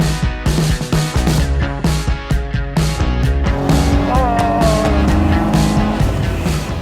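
A 1969 car drives with its old engine running hard, a loud, rough, strained drone with rhythmic pulsing and rising pitch as it accelerates, close up and without talk.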